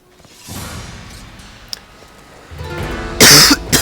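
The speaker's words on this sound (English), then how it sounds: "Sorry, excuse my coughing." A man coughs several times in harsh, close bursts, first a short cough, then a louder fit of coughing near the end, with no other talk.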